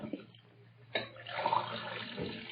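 A kitchen tap runs into a glass in an old radio drama: a faint click, then a steadily building rush of water that continues to the end.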